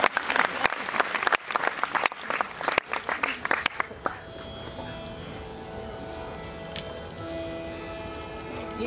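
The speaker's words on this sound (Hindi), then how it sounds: "ताली बजा दीजिए" An audience at a religious katha gathering in Gurgaon applauds loudly for about four seconds, a dense burst of clapping that then cuts off into a low murmuring room tone.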